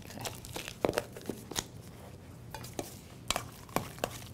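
Whipped cream cheese and other guacamole dip ingredients being mixed in a bowl, with irregular soft scraping and tapping strokes of a utensil, close and quiet, without voices.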